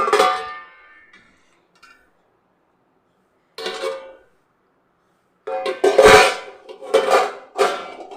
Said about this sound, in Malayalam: ഞാനിതേപോലെ ഒരു പ്ലേറ്റ് വെച്ച് കൊടുത്തിട്ടുണ്ട്